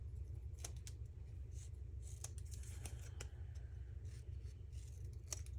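Scissors rough-cut paper for a softball scrapbook layout. A few faint, scattered snips sound close by over a low, steady hum in a quiet room. No one speaks.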